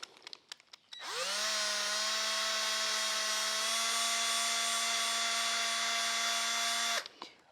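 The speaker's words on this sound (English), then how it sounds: "let's use it on this with just a drill. We'll start on slow speed" A handheld drill spins a rotary foam polishing pad on tempered automotive glass at slow speed, a steady whirring hum that starts abruptly, holds for about six seconds and then cuts off, close and loud with no talking.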